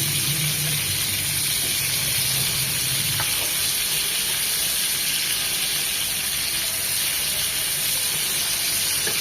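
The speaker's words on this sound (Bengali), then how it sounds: "ওই পাশটাও এরকম 2 থেকে 3 মিনিট সুন্দর করে ভেজে নেব।" A steady hiss of tandoori-spiced prawns frying in a hot pan, continuous and fairly loud, with no talking.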